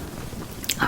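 Teeth bite into a crunchy-edged, soft-centred homemade baked cookie, giving a short close crunch near the end after a quiet lead-in of soft chewing.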